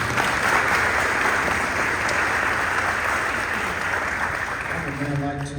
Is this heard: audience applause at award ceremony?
yes